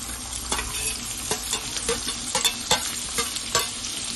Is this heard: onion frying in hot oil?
yes